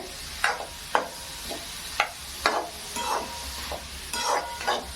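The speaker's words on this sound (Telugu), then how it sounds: "ఇలా మంచిగా అన్నీ మిక్స్ అయ్యేటట్టు కలుపుకోండి అన్నమాట." Momo filling with chilli and garlic being stirred and mixed, giving repeated scraping strokes about once a second against a soft background sizzle, close and moderately loud, with no talk.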